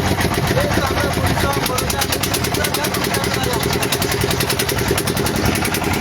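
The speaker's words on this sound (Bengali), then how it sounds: "দর্শক এখানে ট্রলার চলছে যার কারণে কথা তেমন একটা বোঝা যাচ্ছে না" A trawler boat engine runs loud and close on floodwater in Cumilla, a steady droning chug with a fast regular pulse throughout.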